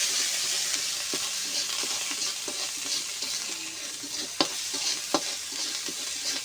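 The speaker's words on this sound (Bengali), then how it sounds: "দিয়ে এটা ভালো করে একটু কষাই নেব।" Turmeric and salt sauté in a hot pan for a salted-hilsa and water spinach stir-fry. A steady, close sizzle hisses throughout, broken by a few sharp spatula scrapes and taps against the pan.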